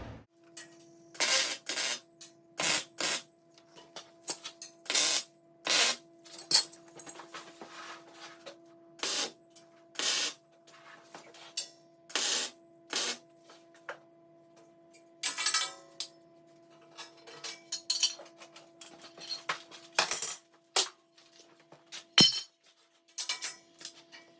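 Tack welds joining the steel arch of an estate gate, a series of short sharp crackling bursts separated by quiet gaps, close and loud, with a steady hum underneath.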